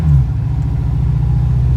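An El Camino fitted with an aftermarket automatic racing shifter, its engine accelerating in first gear with a loud, close, deep rumbling drone that holds steady throughout.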